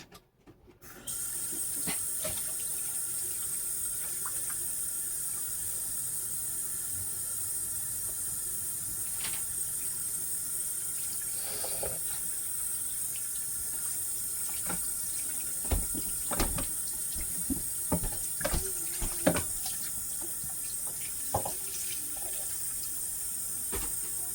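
A kitchen tap runs steadily into a sink while something is rinsed out, a constant close hiss of water with a few small clinks and bumps toward the end.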